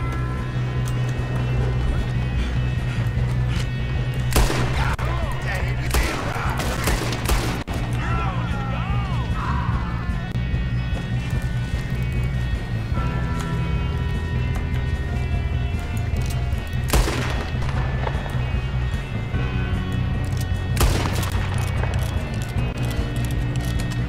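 Gunfire during a train robbery in the video game Red Dead Redemption 2, with several sharp loud bursts of shots and crashes over a constant low rumble of the moving train, while people talk.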